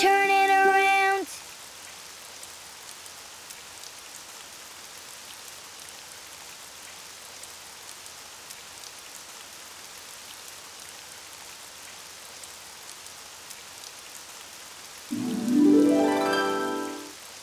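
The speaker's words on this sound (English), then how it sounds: "Oh, it's raining outside." Steady soft rain patters outside as a continuous, even wash of noise, with brief louder tonal sounds at the very start and end.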